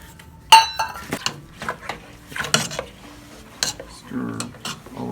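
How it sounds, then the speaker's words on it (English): Batter for neu yahrs kuchen is stirred in a bowl, with sharp clinks and knocks of a utensil against the bowl at an uneven pace, close and fairly loud, and a few faint sounds of someone nearby. "Stir all the way around."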